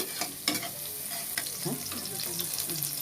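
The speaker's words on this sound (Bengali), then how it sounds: "এখন দিয়ে দেব পেঁয়াজ কুচি। পেঁয়াজটা ভেজে নেব।" Chopped onions frying in hot oil in a pan on a stove, a continuous near sizzle with scattered stirring scrapes and clinks and no voices.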